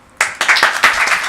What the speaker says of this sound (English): Congratulations and an applause.